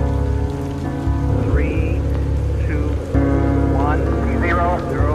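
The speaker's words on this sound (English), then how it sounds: "Because it's raining." Steady rain falls on a surface, a continuous and fairly loud wash of drops that runs the whole time, with tonal chirping sounds drifting over it.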